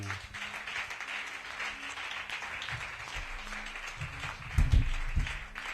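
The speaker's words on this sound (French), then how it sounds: "Je veux qu'on acclame le Seigneur" A church congregation claps and acclaims the Lord during a Pentecost service, steady, dense applause filling the room, with a louder surge of claps and cheers near the end.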